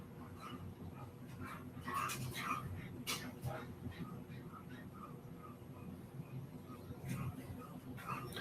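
Several dogs rowdy inside a house, with scattered yips, short barks and whimpers spread through the stretch, moderately distant and fairly faint against room noise.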